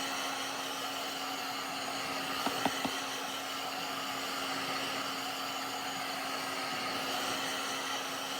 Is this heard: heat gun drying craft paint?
yes